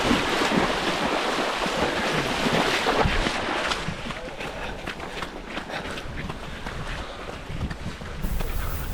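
A trail runner wades across an icy river on a trail course in Fontenay. Churning, splashing water blends with heavy wind buffeting the microphone, loud and continuous for several seconds.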